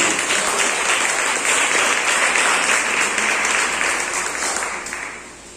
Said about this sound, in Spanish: denle un aplauso al Señor, porque el Señor es el que cambió su vida